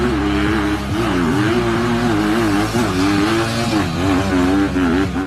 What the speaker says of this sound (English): Second, dirt bike hill climb.